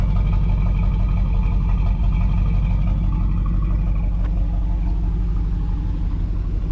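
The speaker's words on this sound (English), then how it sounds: "You guys hear that exhaust?" A 1986 Pontiac Trans Am idling outdoors, its exhaust giving a steady, deep rumble with a loping pulse, close and continuous throughout with no talk.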